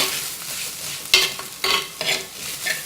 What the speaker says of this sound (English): I'm adding the ginger garlic paste now